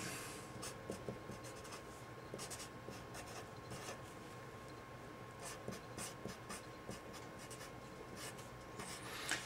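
Pen or pencil writing small on paper while working through a calculus proof, a close, faint, continuous scratching with short quick strokes and brief pauses, heard alone.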